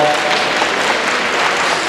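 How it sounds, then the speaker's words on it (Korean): An audience at a talk concert applauds steadily, a dense, continuous wash of clapping filling the hall. "다시 한번 박수 부탁드리도록 하겠습니다"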